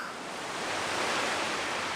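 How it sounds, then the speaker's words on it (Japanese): Distant ocean waves in a visual novel game scene, a steady soft broadband wash that swells slightly, continuous and fairly quiet with no voices. "波の音が遠くから聞こえる。"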